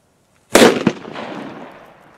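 A Demon firecracker goes off with a single sharp, loud bang, followed by a quick secondary crack and a long, fading rumble and crackle. It is set off outdoors during pre-Christmas fireworks testing.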